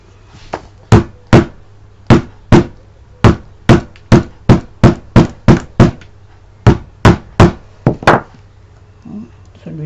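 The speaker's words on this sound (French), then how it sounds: "alors un marteau." A hammer strikes cardboard about twenty times in two close, sharp bursts of evenly spaced thuds, ending in quieter shuffling.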